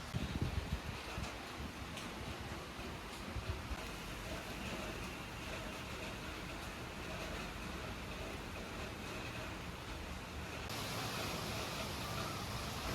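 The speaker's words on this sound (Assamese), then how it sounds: "কি বতাহ মাৰি আছে চাওকচোন" Strong stormy wind blowing steadily outdoors, a broad continuous roar that holds loud and constant throughout with no voices.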